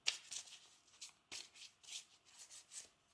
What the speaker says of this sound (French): Je vais mélanger encore.